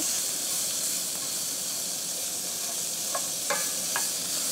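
Coco beans cooking in a pan with a steady hiss of sizzling, a few faint scrapes and taps of a utensil stirring near the end, constant and moderately loud.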